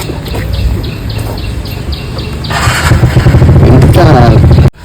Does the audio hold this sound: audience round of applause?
no